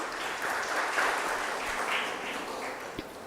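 Seminar audience clapping for an introduced speaker, a steady, moderate patter of many hands heard from the room, with a single sharper knock near the end.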